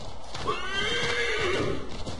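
A startled horse in the video game Assassin's Creed 3 lets out one loud, rising whinny lasting over a second, with hoof clip-clop and game sounds underneath.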